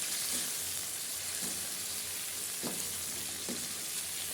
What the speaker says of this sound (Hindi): काली मिर्च और ज़ीरा वगैरह डालने के बाद इसकी हम अच्छी तरह से भुनाई करेंगे मसालों के साथ